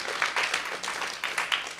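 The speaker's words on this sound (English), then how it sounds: "So just a big round of applause for everybody," A theatre audience at a storytelling night claps in a steady, dense wash of applause, with a few louder swells rising and falling across the short stretch and no talking over it.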